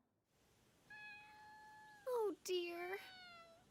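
A small cat stuck up a tree gives drawn-out, high meows, some rising and wavering, close by, while a voice speaks briefly in between.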